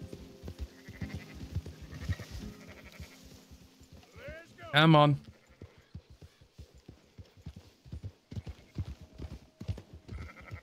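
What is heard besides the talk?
sheep bleating in Red Dead Redemption 2 video game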